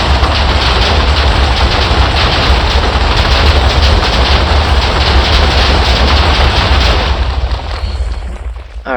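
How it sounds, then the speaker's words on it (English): Loud, continuous barrage of explosions from explosive arrows in the Minecraft video game, a dense rumbling roar of blasts packed together that holds for most of the stretch before thinning slightly near the end, with no talking. "when the arrow is on the ground, it's going to make an explosion"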